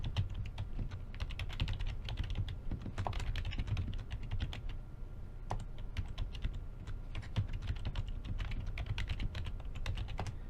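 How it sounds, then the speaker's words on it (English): Computer keyboard typing close by, a steady stream of rapid clicking keystrokes running throughout with no speech. "you can hear my keyboard clicking away in the background"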